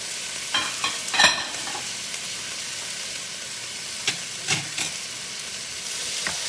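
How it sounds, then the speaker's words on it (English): Beef and broccoli frying in a pan with leftover meat juices while being stirred. A soft, continuous sizzle sits under several scraping stir strokes, all close and without talk. "just mix all of this together"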